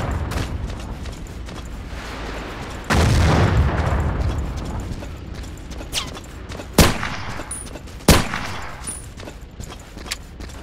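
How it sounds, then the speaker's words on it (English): Sniper rifle gunfire rings out in an online multiplayer battle game: a few sharp, separate reports seconds apart, one heavier boom among them, over a steady noisy battlefield backdrop. "Brookie's sniping away"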